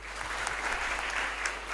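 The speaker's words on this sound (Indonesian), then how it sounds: "Tepuk tangan untuk" Audience applause at a school leadership talk, steady dense clapping from a crowd, moderately quiet and continuous throughout.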